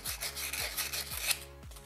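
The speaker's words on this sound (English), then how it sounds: "make sure you rough them up. I use 120 grit sandpaper." Sandpaper of 120 grit rubbed briskly over smooth pen tubes for pen turning, a close, steady rasping scrape in repeated back-and-forth strokes with no talk.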